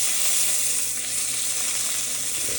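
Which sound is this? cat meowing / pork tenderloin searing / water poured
pork tenderloin searing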